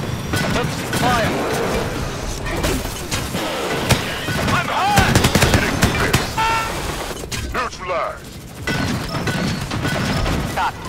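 Rapid gunfire and crashing impacts from the sci-fi shooter Disintegration fill a busy battle, with dense bursts of shots and hits continuing almost without pause, a brief lull near the end.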